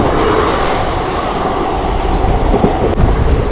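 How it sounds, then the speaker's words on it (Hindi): A train crossing the New Delhi–Patna Rajendra Nagar Tejas Rajdhani Express, a loud close rumble of passing coaches with rhythmic wheel clatter over the rail joints. "हमारी क्रॉसिंग होगी नई दिल्ली पटना राजेंद्र नगर तेजस राजधानी एक्सप्रेस के साथ।"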